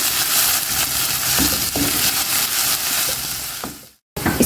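Ginger garlic paste frying in hot oil in a wok gives a loud, steady sizzle with light stirring scrapes, then cuts to near silence briefly before the sizzle returns.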